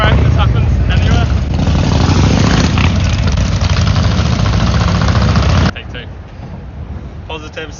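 Several Harley-Davidson motorcycle engines, about ten, rumble loudly close by with a voice talking over them, before the roar suddenly drops to a quieter idle.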